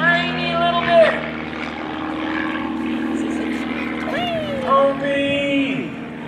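Propeller engine of Erik Edgren's T-Clips aerobatic airplane during an evening airshow, droning loudly with pitch sweeps up and down as it maneuvers, while voices talk over it.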